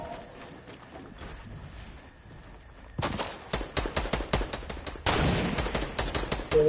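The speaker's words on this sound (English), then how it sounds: "they're shooting at somebody else" Gunfire in a video game, starting with faint distant shots and then breaking into loud, rapid bursts of automatic fire with sharp cracks at close range. There is no talk.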